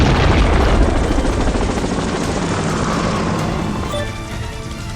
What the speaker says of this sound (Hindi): हेलीकॉप्टर स्टार्ट करके वहाँ से भाग जाते हैं।